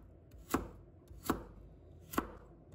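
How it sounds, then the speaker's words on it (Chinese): Three sharp knife chops cutting food into small one-centimetre cubes on a board, evenly spaced about three-quarters of a second apart, close and clear with no talk. "再把它切成小粒"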